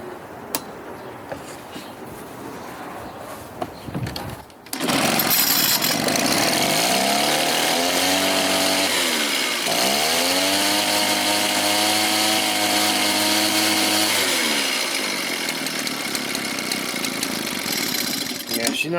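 Vintage Echo PB 403T backpack blower two-stroke engine during idle adjustment, starting suddenly and running loud and close, revving up and dipping twice in sweeping pitch before settling into a rough, uneven idle.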